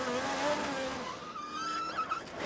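An IndyCar race car loses control at turn 14 at Road America, tyres squealing in long wavering screeches over engine noise, loud and close throughout.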